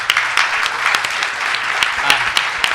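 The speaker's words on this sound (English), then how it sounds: "I think the candidates all deserve a round of applause." Audience applause at a Libertarian presidential candidates' debate on the East Coast, loud close clapping from a modest crowd with distinct individual claps popping out of the steady patter.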